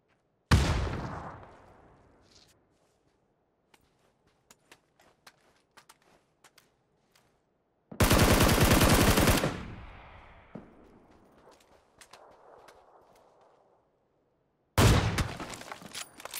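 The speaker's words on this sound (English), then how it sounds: "It's this guy shooting me." Gunshots in PUBG on Xbox One: three separate loud bursts spaced several seconds apart, each a sharp blast with a decaying tail, and faint footsteps and small clicks ticking in the quiet gaps.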